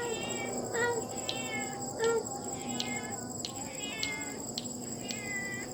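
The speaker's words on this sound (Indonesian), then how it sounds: "kan ada kucing kan?" At night in a graveyard, a cat gives a couple of brief meows amid a constant shrill chorus of crickets and insects, with someone speaking quietly in between.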